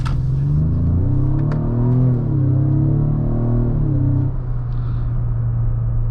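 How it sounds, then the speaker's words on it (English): A 2025 Ford Explorer Active of about 300 horsepower accelerates in sport mode, with engine sound piped into the cabin. A loud, steady interior drone rises and falls in pitch as the revs climb. "I want you guys to pay attention to the pumped-in audio that Ford has put into this 2025 Explorer"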